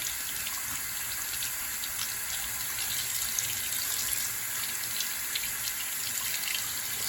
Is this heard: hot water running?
yes